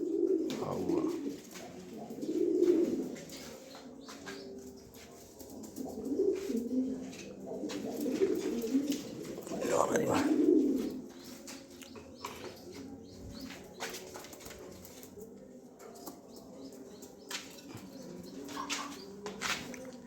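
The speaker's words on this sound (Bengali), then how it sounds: "তো এই পেয়ারটা খুবই সুন্দর এক পেয়ার কবুতর।" A pair of yellow king pigeons coo softly in low, rolling phrases that swell and fade several times over a quiet background, with faint clicks and rustles between calls.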